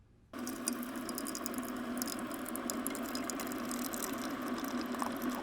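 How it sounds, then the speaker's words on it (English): Coffee poured in a continuous splashing stream that starts abruptly and runs steadily for several seconds, close and fairly quiet with no talking. "pour yourself some coffee"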